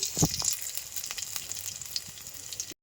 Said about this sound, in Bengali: কড়াইতে একটু সামান্য তেল দিলাম, এরপরে দিয়ে দিলাম রসুন কুচি, অল্প লঙ্কা কুচি